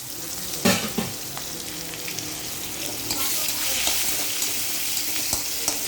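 Bay leaf, green chili and onion frying in hot oil for an Assamese mustard curry with small tingora fish, a dense continuous sizzle with scraping stir strokes and occasional utensil knocks, close and steady.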